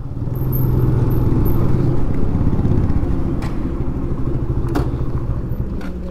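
A motorcycle ridden along the Malda bypass toward a roadside tea stall on a long Sunday ride, engine rumbling steadily and close with road and wind roar throughout, loudest in the opening seconds.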